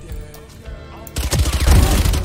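Valorant gunfire starts after a quiet moment and builds into a loud, dense volley of rapid shots and booms that keeps going to the end.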